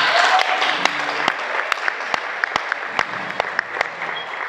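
A comedy-contest audience applauds a finalist: dense, steady clapping from many hands with a few sharp, close claps standing out, with faint voices under it.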